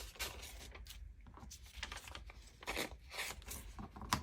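Paper is torn by hand for a mixed media tag, making a series of short ripping and crinkling bursts at close range, fairly quiet and irregular, with brief pauses between tears.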